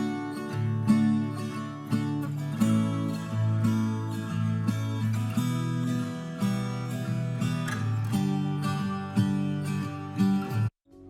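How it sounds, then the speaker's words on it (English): Client-recorded guitar, two takes panned left and right with no effects, strumming a steady pattern of bright chords over about eleven seconds, played alone. "So the next thing in the verse is this guitar"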